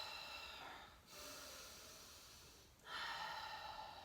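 Two long, airy exhales in a breathing exercise, close and breathy, each ending in a brief pause before the next, with a soft steady hiss of air throughout.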